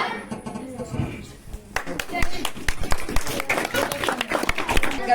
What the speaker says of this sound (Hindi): आप लोग उतना बेहतरीन तालियां नहीं बजाए।